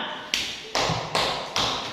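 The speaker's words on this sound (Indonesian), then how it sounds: "Tepuk tangan." Four distinct, evenly spaced claps ring out in a classroom, close and fairly loud, each decaying into a soft room echo with no talking over them.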